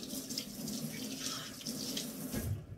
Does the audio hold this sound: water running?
yes